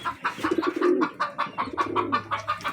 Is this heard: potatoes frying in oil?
no